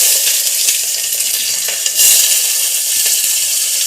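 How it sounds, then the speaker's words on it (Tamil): Onions sauté for roadside-stall sambar, a loud, close, continuous hiss and sizzle with small scraping stirs and a slight surge just past the middle, with no speech. "வெங்காயத்தை வதக்கிட்டு நல்லா வதக்கணும்."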